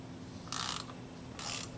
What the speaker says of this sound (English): I have the ratchet and socket on that Torx